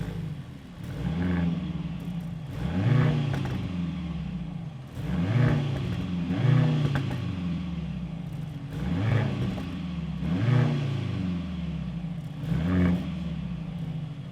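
Mercedes-AMG C63 with a four-cylinder engine, the most powerful production four-cylinder ever made, revving in a steady cycle of rising and falling blips repeated about every two seconds, moderately loud.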